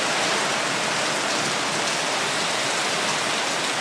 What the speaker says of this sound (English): This rain is pretty strong.